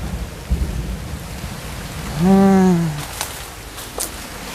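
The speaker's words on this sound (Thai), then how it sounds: "ฝนตกครับ" Steady rain falls outdoors in a rural Thai setting, a continuous broadband hiss with a brief low tonal sound midway and faint distant rumbles; no talk.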